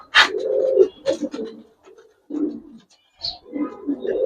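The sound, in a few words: pigeons cooing in a loft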